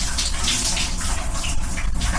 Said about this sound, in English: to shower on a moving train?